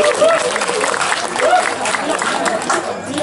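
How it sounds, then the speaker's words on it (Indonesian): Audience clapping at a Balinese comedy show, a steady dense wash of applause lasting the whole stretch, fairly loud and close, with a voice faintly over it. "ngiring tepuk tangan"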